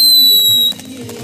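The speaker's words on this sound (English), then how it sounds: "Fireworks." Fourth of July fireworks give off a loud, sustained blast with thin high whistling tones riding on top. The noise then drops abruptly to a softer crackling rumble.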